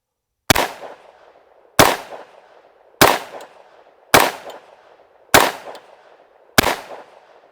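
A Tommybuilt T7, an MP7 clone, fires six loud, sharp shots at an even, unhurried pace, each crack ringing briefly before the next.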